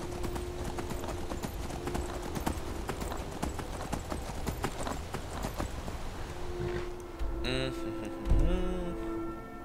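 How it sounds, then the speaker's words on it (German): Horse hooves galloping in Skyrim, a fast steady clip-clop run that slows near the end with a brief snort or whinny, a voice speaking softly underneath. "Dann reiten wir mal geschwind bis dahin."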